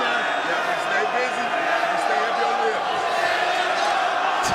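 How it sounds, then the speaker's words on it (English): A fight crowd in an Atlantic City arena roars and chants continuously, a dense, steady wash of many voices filling the whole stretch at even loudness. "Stand them up, the chant from the crowd here in Atlantic City."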